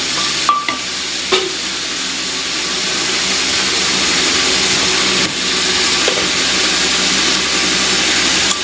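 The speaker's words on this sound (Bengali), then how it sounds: "তেল তেজপাতা দিয়েছি বন্ধুরা" Oil and bay leaves sizzle in a pan as a beef curry is started: a dense, steady frying hiss, broken by a few brief clinks and scrapes of stirring.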